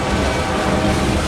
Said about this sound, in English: Pretty long train, whatever it is.